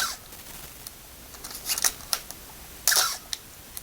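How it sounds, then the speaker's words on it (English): A Canon AE-1 Program 35mm film camera fires its shutter at a high speed such as 1/1000, giving a few sharp mechanical clicks with short gaps, near and fairly quiet, no voices. "we'll see what the shutter speeds sound like."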